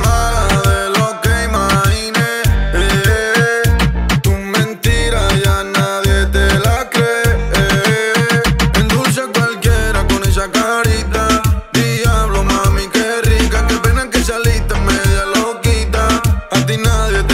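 The reggaeton-style song plays loudly and continuously, with punchy rhythmic bass hits, dense layered melody and sung vocals throughout.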